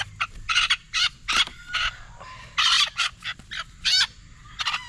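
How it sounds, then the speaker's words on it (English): A hen calls in a series of loud, raspy bursts, several in quick succession with short pauses between, close by and without talk. "I forgot there's a hen in here too."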